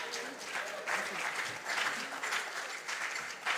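Audience at a junior science and maths quiz championship applauding contestants, a steady wash of clapping across the room with swells and dips, and a voice speaking faintly beneath it.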